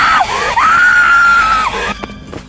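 A woman screams loudly for help: one long, piercing, sustained cry that rises, holds and then breaks off, followed by a moment of near quiet.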